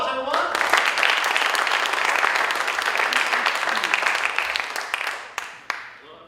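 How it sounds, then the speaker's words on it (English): At an improv comedy show, an audience bursts into loud, sustained applause. The clapping and some vocal cheering fade out toward the end. "give them a round of applause, everyone"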